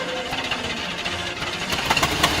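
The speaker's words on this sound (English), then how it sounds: "Start the engine." Engine sound effect of a spaceship starting and idling, a steady rough mid-range rumble with faint knocking pulses that grows slightly louder and busier toward the end.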